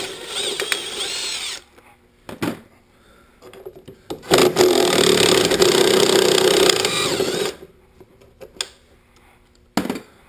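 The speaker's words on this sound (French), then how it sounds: "Je m'en sers pas pour serrer, mais pour desserrer des boulons" A wrench loosens bolts on a motorcycle chain case with ratcheting, clicking bursts, including one sustained run of rapid ratchet noise in the middle, separated by quieter pauses and a few sharp metallic knocks.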